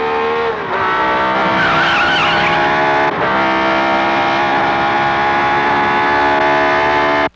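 A race car roars past with a loud, sustained engine whine and tire skid, holding steady for about seven seconds with a brief dip midway before cutting off abruptly.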